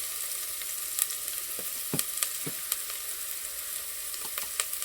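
Masala and ground paste frying in a pan over a village wood-fired stove for chicken vade, a continuous bright sizzle broken by several sharp scrapes and knocks of stirring, with no talk.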